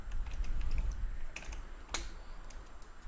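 Someone types a short type name on a computer keyboard, a quick close run of light key taps ending in a sharper single stroke, over a soft low background rumble.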